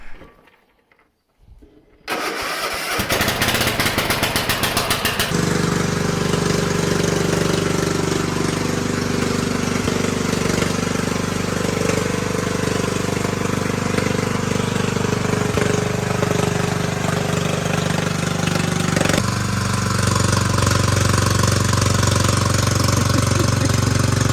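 A small green lawn and garden tractor engine starts up and runs loudly and steadily nearby, a continuous rumbling drone with a slight shift in tone toward the end.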